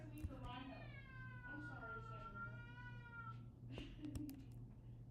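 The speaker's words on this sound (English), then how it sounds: "Sorry, guys, my cat is crazy." A house cat meows loudly and insistently, giving several drawn-out, wavering cries over a constant low electrical hum. A faint voice can be heard underneath.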